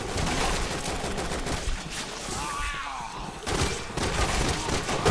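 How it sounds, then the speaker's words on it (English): Sustained gunfire from enemies in Resident Evil 6, a dense, loud barrage of overlapping shots and bursts that briefly thins in the middle before resuming at full intensity. "Damn, everyone's shooting him."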